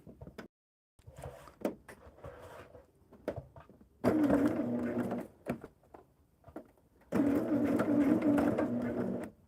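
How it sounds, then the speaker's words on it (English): A sewing machine stitches through a thick pinned quilt block in two steady, loud runs of a few seconds each, with quieter handling noises and pauses between them. "And now we're going to stitch it. Just stitch on that line."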